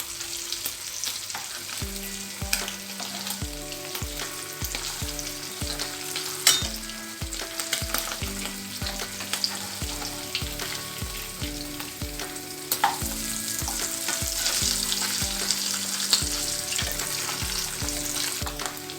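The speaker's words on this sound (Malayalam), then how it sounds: "അപ്പം നമ്മുടെ മത്തി മുരിഞ്ഞു കഴിഞ്ഞു. ഇനി നമുക്ക് ഈ എണ്ണയിൽ നിന്ന് എടുക്കാം." Sardines fry steadily in hot oil in a pan, a continuous close sizzle and crackle that swells a little louder toward the end, with no voices.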